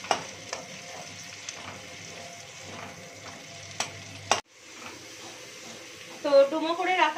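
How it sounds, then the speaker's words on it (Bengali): Diced onions with a pinch of salt frying in a pan for chilli chicken, a steady soft sizzle and crackle with occasional stirring clinks, while someone talks over it. "ডুমো করে রাখা পেঁয়াজগুলো ভাজছি"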